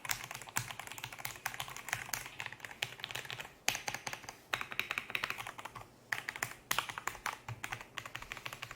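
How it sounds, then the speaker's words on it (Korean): Someone types steadily on a Darmoshark A87 Pro mechanical keyboard fitted with Violet Pro switches. Dense, quick clicks and clacks sound close and crisp, with a brief pause midway and no speech. "그러면 지금은 바이올렛 프로 소리입니다."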